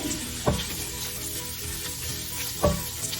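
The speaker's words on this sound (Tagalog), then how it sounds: "Aroma ng butter at yung ginisan yung sibuyas at luya at tanglad." Onion, ginger and lemongrass sauté in butter in a pan, giving a steady close sizzle with two louder utensil scrapes and stirs, no voices.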